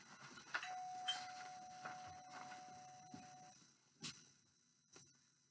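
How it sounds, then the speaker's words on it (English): A soft doorbell chime rings once and holds for a few seconds amid faint clicks and taps, all very quiet. "And the doorbell rang."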